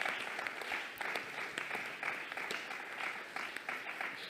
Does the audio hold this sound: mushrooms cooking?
no